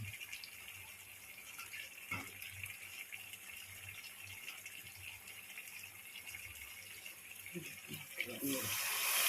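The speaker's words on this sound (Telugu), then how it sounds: "వాటర్ పోస్తున్నానండి" Water runs steadily into a pot of fish curry, a continuous gushing pour close by, with faint talk underneath and a louder splash near the end.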